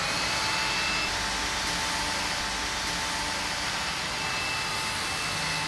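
Cordless vacuum cleaner picking up fine dust from a hard floor, a loud, constant motor whine with broad airy rushing that holds steady from start to finish.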